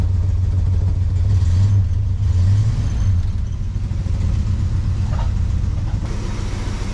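A 1968 Dodge Charger engine runs loud and close, a steady low rumble that swells in brief revs and settles back, with no talk over it.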